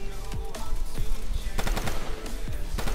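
Rapid automatic gunfire in a shooter video game during a team deathmatch, loud and close, with dense bursts of shots and sharp impacts layered over a busy game background.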